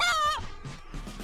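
A hen at a farm gives a short honking cluck, followed by softer fowl sounds for about a second, close and clear with no talk over it.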